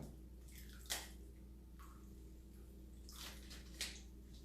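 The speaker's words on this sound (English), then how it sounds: "I'm going to take more of this water here and I'm going to pour it on top" Water is poured onto a nearly frozen water bottle, giving quiet splashing and trickling with a couple of brief louder spills against a low steady hum.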